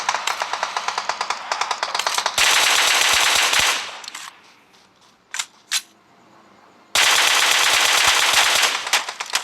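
Gunfire in the PUBG Mobile battle royale game, with rapid automatic bursts and loud sustained volleys, then a quieter stretch with two sharp isolated shots before heavy firing resumes, all close and loud with no talk.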